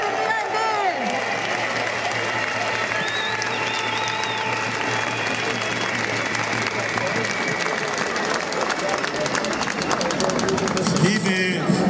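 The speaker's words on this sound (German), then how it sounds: "Einen Applaus für den BND." Applause and crowd noise from a large audience at a TTIP protest rally in Berlin, a steady dense clatter of clapping sustained throughout, loud and continuous.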